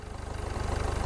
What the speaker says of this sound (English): this engine is so loud